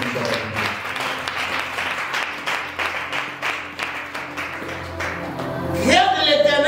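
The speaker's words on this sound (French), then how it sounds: "Acclame le Seigneur." A church congregation claps and applauds together in steady, dense rhythmic bursts through most of the stretch, fairly loud and close, with a voice rising over the clapping near the end.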